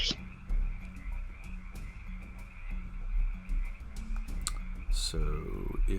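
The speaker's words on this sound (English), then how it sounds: "Frogs. Nasty." Frog croaks from a tabletop role-playing game session set in a jungle, a rhythmic series of low repeated croaks with clicking, mixed beneath faint background activity.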